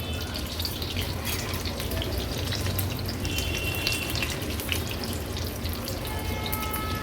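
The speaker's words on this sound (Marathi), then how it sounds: "हाय टू मीडियम फ्लेमवर ही भजी व्यवस्थित तळून घेणार आहोत" Steady, dense crackle and hiss of bhaji fritters deep frying in hot oil, continuous and close with no talking.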